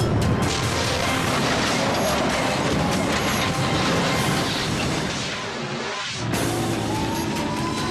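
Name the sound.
commuter train colliding with a truck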